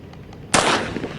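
A burst of video game gunfire starts abruptly partway in, a loud sustained blast of rapid shots that fades slightly toward the end. Quiet background precedes it.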